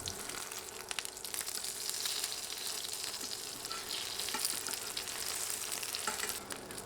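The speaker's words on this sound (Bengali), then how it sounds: "কয়েক সেকেন্ড ভাজার পর ডিম ফোল্ড করে নিব।" Beaten egg for a dal and egg dish fries in a pan and is then folded, giving a continuous close sizzle with light scraping and stirring touches throughout.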